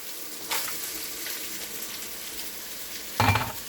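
Onion and seasoning frying in a pot: a steady sizzle with two louder bursts of spattering as more ingredients hit the hot oil, the second one near the end.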